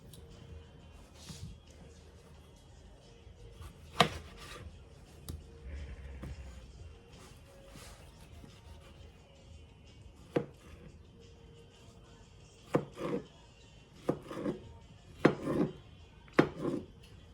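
A tomato being cut with a dull kitchen knife on a board, a series of soft scattered chops and taps, quiet at first and then a cluster of louder, closer knocks toward the end over low room hiss.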